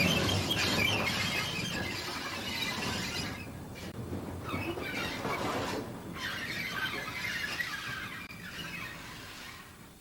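A steam goods train screeches with loud, drawn-out metallic squealing that swells and fades in waves over a rushing background, no voices.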